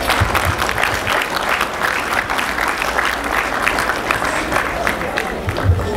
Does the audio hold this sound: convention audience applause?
yes